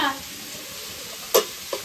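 Potatoes frying with onion in a pan, a close crackling sizzle with two brief scraping knocks of a spoon partway through.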